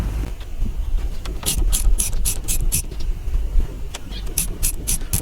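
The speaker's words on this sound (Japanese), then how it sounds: "10ミリのボックスで外していきます。" A 10 mm socket wrench ratchets while undoing rusty screws during a DIY accessory install, giving bursts of quick, bright clicking over a noisy outdoor background with low rumble.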